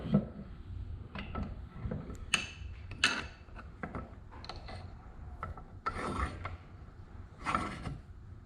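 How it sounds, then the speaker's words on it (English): Bench vise being tightened on a Tremec TR6060 transmission part from a 2007 Shelby GT500, giving repeated metallic rubbing, ratcheting and scraping strokes, close and moderately loud, with no talking. "All right, so we're in the old vise."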